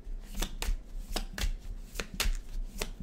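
Tarot cards being shuffled by hand, a close, soft series of crisp riffling snaps at an even rhythm, several in quick succession.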